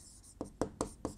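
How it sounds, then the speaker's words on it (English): Quick, faint taps and scratches of writing on a board, four short strokes in a rapid, uneven rhythm with no speech. "I'm just going to write that this is what?"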